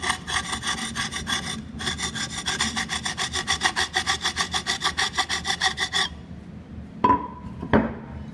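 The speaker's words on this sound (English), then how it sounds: "Here, I use this tile to cut two tiles." A cement tile is dragged hard across ceramic tiles in quick repeated strokes, making a loud rhythmic rasping scrape much like sawing, followed by a pause and two short sharp scratches.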